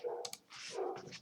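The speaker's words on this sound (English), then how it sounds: "that's my dog barking outside" A dog barks outside, a couple of short muffled yelps heard at a distance and fairly faint through the room.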